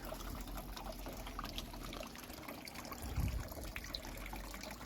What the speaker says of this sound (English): hence why we've got water coming out of the wrong places